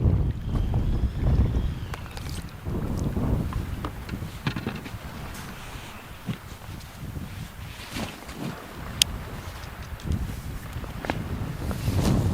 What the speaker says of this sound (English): the wind is ripping down Smith Bay